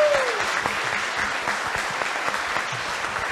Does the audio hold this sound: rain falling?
no